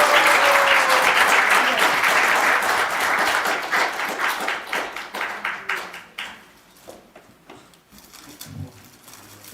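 Audience applause at a Korean internet journalism award ceremony. Loud, dense clapping trails off into scattered individual claps before fading out.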